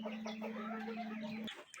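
A broody farm hen clucks softly in short, repeated low calls, faint and close, over a steady hum.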